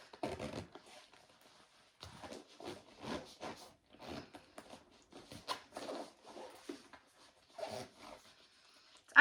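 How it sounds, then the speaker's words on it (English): The zipper on a stuffed Pacsafe Citysafe CX travel backpack is pulled closed in a series of short, close, quiet rasping zips, stopping and starting as it snags briefly. "Actually zipping pretty good"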